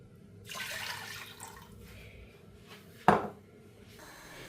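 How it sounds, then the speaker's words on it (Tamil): Water is poured from a cup into a pan of sugar to make syrup for Sri Lankan honey murukku: a brief, soft splashing pour followed by a sharp metallic clank of the pan. "அதே கப்பால் ரெண்டு கப்பு தண்ணி விட்டு கொள்ளுறேன்"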